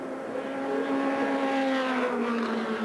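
Supercars in the 1994 IMSA Bridgestone Supercar Series, a Lotus and BMWs, sweep through the 9-degree banking at Phoenix, a sustained engine drone rising and shifting in pitch as they pass, loud and continuous.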